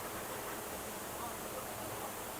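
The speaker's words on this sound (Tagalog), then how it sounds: "malakas yung agos ng talon ngayon" A steady, broadband rush of a strongly flowing waterfall at Utod River and Falls fills the whole stretch, loud and unbroken, with no distinct voices standing out.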